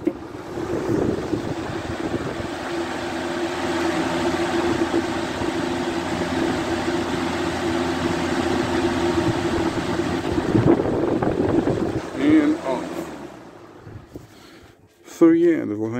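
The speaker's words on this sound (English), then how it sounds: "So yeah, the Lasko Cyclone, really not a bad fan." A Lasko Cyclone pedal-blade fan running on high setting, giving a steady broadband whoosh of moving air with a faint motor hum throughout, then a few clicks and bumps near the end.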